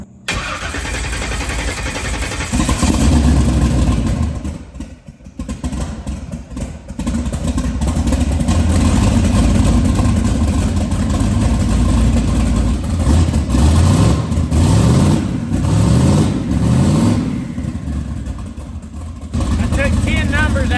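A big block twin turbo Ford Fairmont engine cranks and catches, then settles into a loud, steady, rumbling idle with small revs and uneven patches, close by and mostly alone.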